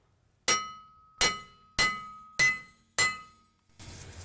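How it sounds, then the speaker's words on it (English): A mini sledge hammer taps a stuck rear brake rotor off the hub of a 2001 Toyota Avalon, giving five loud, ringing metallic blows spaced about two-thirds of a second apart, followed by a rougher, noisy scrape. "So I'm just gonna grab a hammer and tap on it and hopefully break it loose from this hub."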